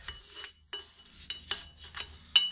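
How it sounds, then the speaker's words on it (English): Wire brush scrubbing a Ford Mustang rear brake hub in a series of short, rough rasping strokes, close and moderately loud, with metallic scraping bursts and brief pauses between passes. "Now I'm going to go ahead and clean off whatever I can with the wire brush"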